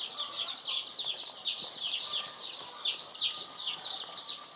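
A crowd of 14-day-old layer chicks kept indoors during vaccination peeps and chirps nonstop, a dense high-pitched chorus close by.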